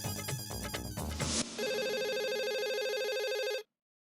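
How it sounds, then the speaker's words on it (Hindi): A telephone rings in steady repeated electronic bursts as an outgoing call connects, loud and clear with no talk over it, then stops abruptly. "अभी स्वर्ग मैरिज ब्यूरो में फोन करता हूँ"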